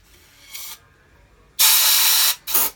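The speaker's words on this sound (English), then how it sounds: "spray it with the cleaner" Aerosol cleaner hisses in three bursts into a Honda GX390 engine block: a short one, then a long sustained blast, then another quick spurt, close to the microphone.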